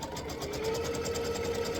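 A sewing machine runs steadily as it stitches down a quilt block, a fast, even, close mechanical whir with a rapid needle rhythm and no pauses.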